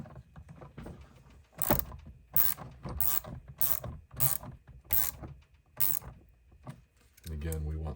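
Ratchet clicking in repeated bursts while snugging the bolts that hold the shaft of a snow shovel, about six loud close-up ratcheting strokes with short pauses between, ending with a brief mechanical rattle.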